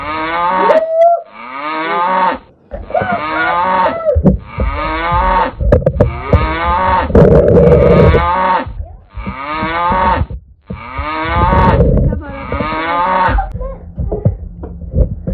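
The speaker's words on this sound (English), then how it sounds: "Did you hear the cows?" Cows moo repeatedly, loud and close, a series of long drawn-out calls separated by short pauses.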